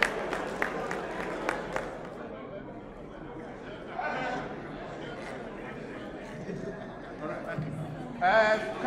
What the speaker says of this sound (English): Quickly, please give a round of applause to Kolamana, the wife, for that gesture.